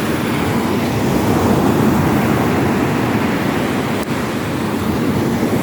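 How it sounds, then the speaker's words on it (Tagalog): Large sea waves surge onto a debris-strewn shore at a Palawan fishing village during a signal number 2 typhoon, a loud continuous roar with wind buffeting the microphone and no speech. "Ang laki ng alon."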